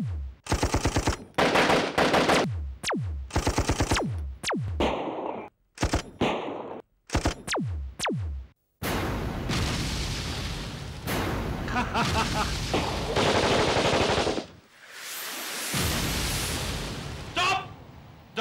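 Rapid machine-gun bursts crackle in an animated kids' superhero action show, alternating with short gaps and then giving way to sustained loud gunfire and explosive booms, with shouted voices in between.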